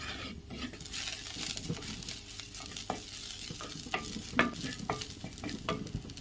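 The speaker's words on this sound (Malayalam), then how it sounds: "അതിൽ വെളിച്ചെണ്ണ ഒഴിച്ചു കൊടുത്ത ശേഷം നമുക്ക് ഉള്ളി മൂപ്പിച്ചെടുക്കാമേ." Onions fry in coconut oil in a seasoned clay pot on the stove, a steady low sizzle broken by scattered stirring scrapes and one sharper clack, with no voices.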